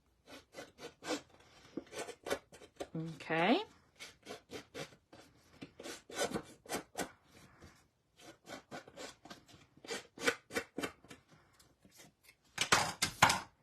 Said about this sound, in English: I'm going to use my scissors because I need to do my roughing